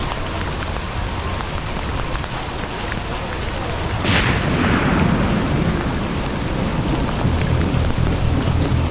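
Steady heavy rain pours down at a dam construction site, with a loud thunderclap rumbling in around the midpoint and lingering low rumble afterward.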